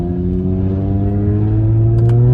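A car engine under load rises steadily in pitch with strong harmonic drone, then flares as it shifts into third during a slip test after a clutch fix, heard close and loud.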